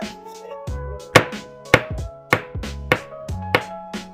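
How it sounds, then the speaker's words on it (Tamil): An OPPO F29 phone is used as a hammer to drive a nail, giving about seven sharp, evenly spaced knocks, each followed by a short ringing resonance. "இந்த ஆணி வந்து இதை வச்சுதான் அடிக்க போறோம்"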